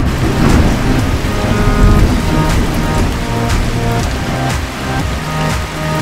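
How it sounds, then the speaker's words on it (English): Steady rain pours down hard alongside rolling thunder, a loud, dense hiss of falling water with deeper rumbles and scattered sharper crackles throughout, with no voices. "All of our animals are inside a barn so they won't get wet when it rains."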